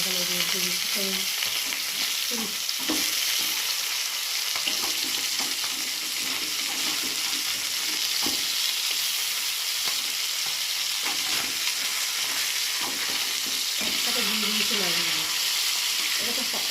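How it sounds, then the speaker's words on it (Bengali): Katla fish pieces sizzling steadily in a pan of hot oil, a continuous loud fry with occasional clinks and stirring. "মাছগুলো একে একে উল্টিয়ে দেবো আর মাছগুলো খুব একটা করার মতো ভাজা হবে না হালকা মিডিয়াম ভাজা হবে"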